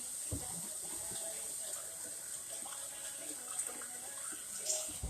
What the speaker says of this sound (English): So I can wash my hands, as y'all know I do.